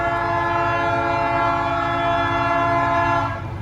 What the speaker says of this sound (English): Here comes the train up the hill.